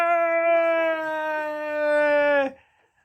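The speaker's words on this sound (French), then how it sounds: "C'est un chien!" A dog lets out one long, loud, close howl that holds a steady pitch for about two and a half seconds and then cuts off abruptly.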